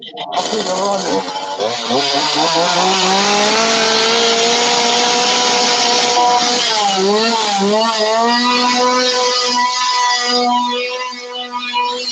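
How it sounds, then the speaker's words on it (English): A chainsaw engine runs loud and close for over ten seconds, starting with a sharp burst and then holding a buzzing, whining drone that dips and rises as the throttle is eased and revved again. "I fucking love the chainsaw, man."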